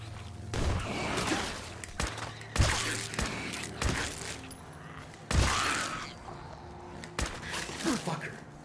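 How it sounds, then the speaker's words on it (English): Bursts of gunfire in Fallout 4 VR, several sharp broadband cracks spaced irregularly across the stretch, some close and loud, mixed with game noise and occasional voice. "Who's shooting?"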